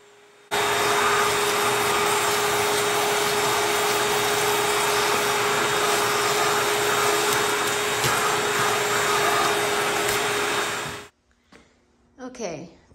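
A vacuum cleaner roars loud and steady for about ten seconds while cleaning out a car interior, then cuts off abruptly, followed by brief faint sounds in the quiet.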